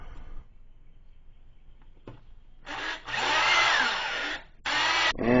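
A power drill driving screws to mount a 110 electrical switch on a bench grinder, heard as a brief whir followed by two loud, sustained bursts of close whining drill noise with a short pause between them.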